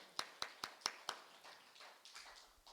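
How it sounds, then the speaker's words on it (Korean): Hands clap five times in a sharp, evenly spaced run during a Sunday church service, followed by softer, scattered claps fading away under faint background noise. "우리 하나님께 감사의 박수 치겠습니다"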